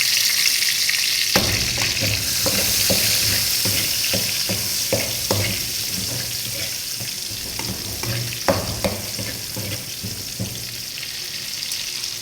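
Garlic frying in hot oil in a home kitchen, a continuous bright sizzle with intermittent scraping and stirring knocks from a utensil against the pan, close and fairly loud throughout.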